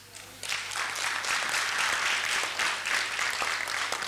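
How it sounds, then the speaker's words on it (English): Audience applause at the launch event of a community projects programme, steady crowd clapping that swells in after a brief quiet start and holds for several seconds, with faint voices mixed in. "ons moet hande klap vir Kagiso Trust"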